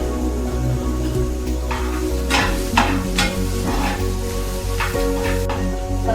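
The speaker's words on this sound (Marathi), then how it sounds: "मी ऑनियन प्रॉपर याला फ्राय करत आहे" Onion fries in a pan with ginger-garlic-green chilli paste, giving a steady loud sizzle broken by several scraping stirs of a spoon against the pan, up close and without talk.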